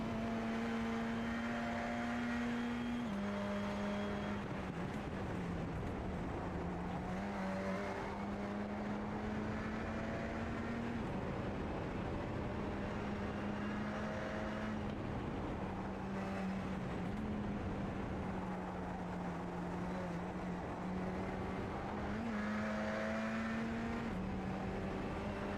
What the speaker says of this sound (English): we'll take a ride with Solorzano as he gets ready to come around and take the green flag for his first flying lap